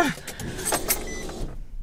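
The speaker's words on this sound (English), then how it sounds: "Had a loud fuel pump" A loud Walbro 485 fuel pump whines steadily inside a hot Infiniti G35 car, holding for about a second and a half before cutting off into quiet.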